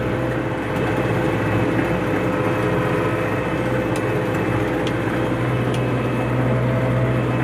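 A tractor engine runs steadily during field cultivation for sunflowers, a loud, continuous low mechanical drone heard from inside the cab with no talking.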